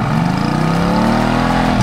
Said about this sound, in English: The constant rumble of the engine in the background is really pleasing